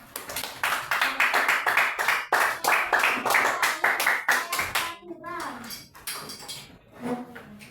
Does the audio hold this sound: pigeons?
no